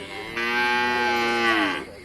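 A single long, loud moo from cattle at a local livestock market in Nan, Thailand, rising and holding for over a second before fading, heard close and clear above a low background.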